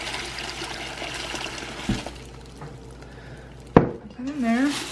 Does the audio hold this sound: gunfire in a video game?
no